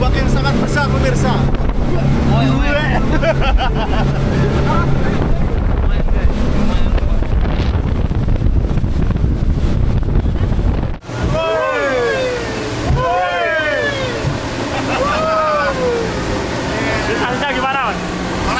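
Speedboat pounding across very large waves in strong wind near Komodo National Park, Flores, with loud continuous wind buffeting and engine roar for the first half, then a drop into steadier water noise with bird calls overhead.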